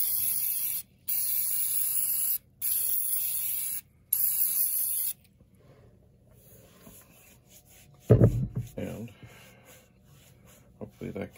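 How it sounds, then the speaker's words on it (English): DeoxIT contact cleaner sprays into empty RAM chip sockets on a Commodore PET in several loud hissing bursts of about a second each, followed by clicks and handling noises. "I'm going to take the deoxit, the machine is off, and I'm going to give it a spray."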